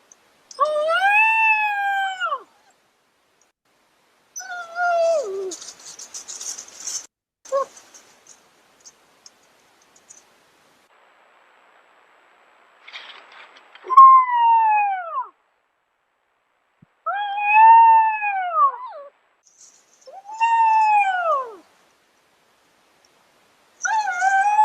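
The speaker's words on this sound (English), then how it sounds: "this is going to have some pups at about 4 weeks old, exploring outside their den and making some of their first howls" Wolf pups about four weeks old, outside their den, give their first howls: several short, wavering, rising-and-falling cries separated by silences, close and clear with no talk.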